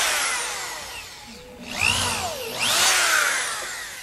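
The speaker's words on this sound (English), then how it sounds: "So I'm going to take my drill" A power drill whines up and down in two bursts, its pitch rising and falling as the bit bores into wood, close by.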